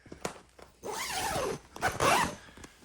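Zipper being pulled along a CFMOTO UForce soft cab enclosure, two long rasping zips close to the microphone with light handling clicks between them.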